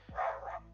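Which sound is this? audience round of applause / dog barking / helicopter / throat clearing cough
dog barking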